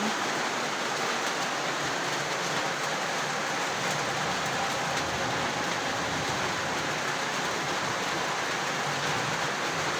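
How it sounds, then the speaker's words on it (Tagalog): Heavy rainfall keeps up a constant dense hiss that stays uniform and fairly loud for the whole stretch, with no voices over it. "Lumakas na yung ulan."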